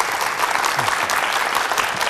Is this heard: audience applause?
yes